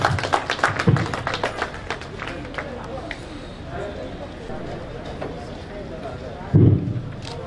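An audience at a free medical camp event for Pochampally handloom weavers claps as guests come onto the stage, a burst of applause at the start fading into scattered claps under ongoing amplified talk, with another loud clap burst near the end.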